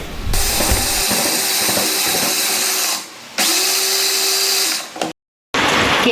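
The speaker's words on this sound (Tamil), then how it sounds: "ட்ரை பிளெண்டரில் போட்டு நம்ம நல்லா நேகாக அரிச்சு எடுக்கணும்" Dry blender grinding cooled rice into flour, a loud, steady high-pitched whirring grind that runs in long bursts with brief pauses and a short cut-out near the end.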